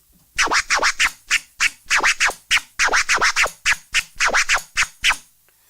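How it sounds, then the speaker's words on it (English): Scratch DJ cutting a record on a turntable, switching between baby scratches and sharp stabs in loud, close, rhythmic bursts of paired strokes with brief gaps, without any voice. "baby scratch to stab,"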